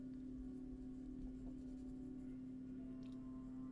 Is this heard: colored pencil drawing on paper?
yes